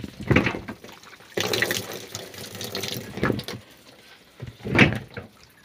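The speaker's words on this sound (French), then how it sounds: "On évacue l'eau." Rainwater pouring off a slack tarp on a sheep shelter, several uneven splashing gushes, the longest running for about two seconds, with a final brief surge near the end.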